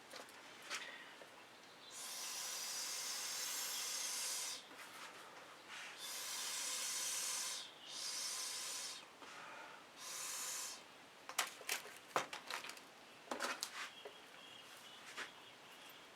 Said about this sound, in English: I like scraping my spatula off